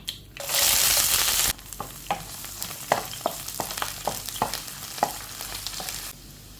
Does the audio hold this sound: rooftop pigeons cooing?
no